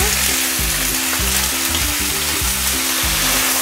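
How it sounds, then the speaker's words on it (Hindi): Chopped bottle gourd hits hot, crackling spice tempering and sizzles loudly and continuously, with steady frying noise throughout. "तड़का यहाँ पे चटक चुका है, अब हम यहाँ पे डालेंगे लौकी।"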